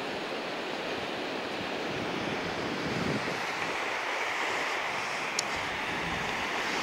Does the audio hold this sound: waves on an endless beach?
yes